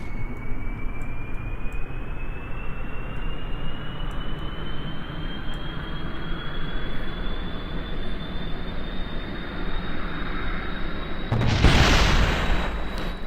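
An aircraft in Kerbal Space Program launches at full throttle with a steady, loud engine roar and a slowly rising whine. It ends in a sudden burst of crashing noise near the finish.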